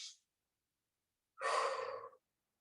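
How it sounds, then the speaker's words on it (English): A breath during a yoga stretch: one short exhale at the start, then after a pause a clear, close breath lasting under a second, with no talking. "Breathe in, breathe out."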